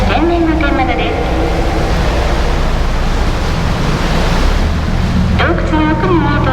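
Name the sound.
waves surging through sea cave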